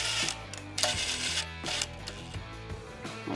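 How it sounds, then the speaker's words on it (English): A 17mm socket running new bolts into the frame of a Chevy/GMC 2500HD pickup during a skid plate install, a quiet series of ratcheting clicks and short mechanical whirs in irregular bursts. "So these new bolts are a 17mm socket. We'll just run those in, back out real quick"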